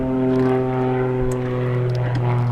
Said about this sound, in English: You're wondering why I don't stop and let that airplane pass and do this all over again?